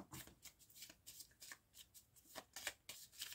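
Tarot oracle cards are cut and shuffled by hand in a rapid series of soft riffling flutters and slaps, close and fairly quiet, with no talking.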